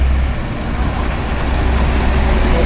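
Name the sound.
truck passing on the road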